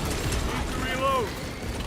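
A weapon reloads in Warhammer 40k Space Marine 2, a brief mechanical clack-and-ratchet sound set against battle noise and voices.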